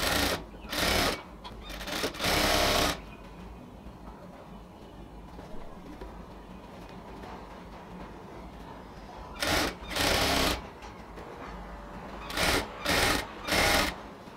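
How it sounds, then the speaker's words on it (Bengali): A sewing machine stitches a ladies' pant in several short bursts of rapid, close needle chatter, two near the start and a handful toward the end, separated by quiet pauses. "আস্তে আস্তে ধরে ধরে পুরোটা অংশ স্টিচ করতে হবে।"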